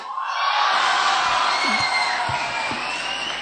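A stand-up comedy audience cheers and whoops loudly, a dense crowd roar swelling in quickly and holding, with scattered shouts standing out near the end.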